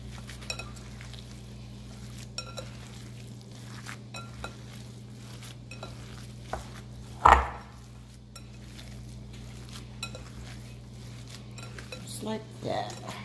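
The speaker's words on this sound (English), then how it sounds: "Going to mix all that in there together." Chopped white onions worked into raw burger meat in a bowl, with soft squishing and occasional clinks of a utensil against the dish, one louder knock midway; quiet room tone throughout, no voices.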